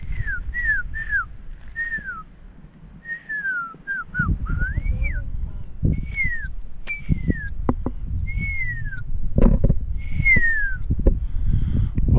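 A marmot gives a series of sharp, descending whistles at irregular intervals, clear and fairly near, over low rumbling wind and handling noise on Mount Rainier.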